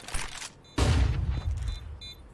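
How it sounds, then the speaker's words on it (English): A flashbang grenade goes off in Counter-Strike 2 as one sharp, loud burst that trails into a roaring wash lasting about a second, after a brief quieter lead-in. "Throwing flashbang."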